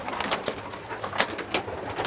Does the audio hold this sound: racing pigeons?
yes